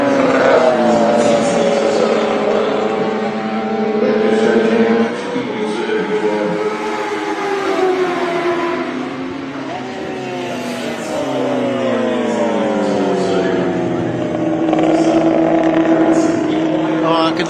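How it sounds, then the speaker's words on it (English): Two-stroke racing motorcycles roar down the straight at an Australian Superbike Championship round, engines loud and sustained with rising and falling pitch as they pass, continuous throughout. "let's have a listen to these bikes as they come down the straight"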